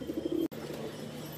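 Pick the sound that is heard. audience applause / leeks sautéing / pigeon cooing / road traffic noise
pigeon cooing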